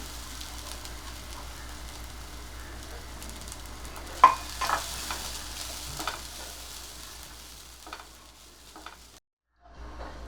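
Grated coconut lightly roasts in a pan, a soft low sizzle under intermittent scraping and stirring knocks, quieter and sparser toward the end before fading to near silence.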